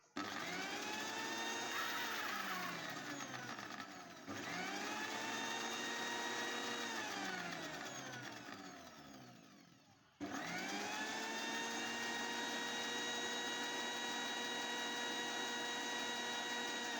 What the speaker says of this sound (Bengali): এরপর আমি এটা ব্লেন্ড করে নিচ্ছি।